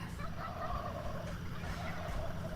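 A wild turkey gobbles several times at moderate distance, its rapid warbling calls rising over a steady outdoor rumble.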